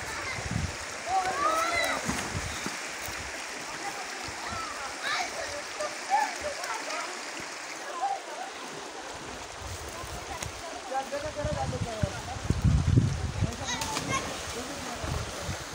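Stream water rushing and splashing in Kashmir, a continuous broadband wash that swells louder near the end, with people talking over it.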